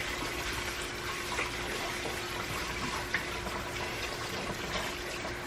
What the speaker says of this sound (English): So I'm going to rinse this colander out.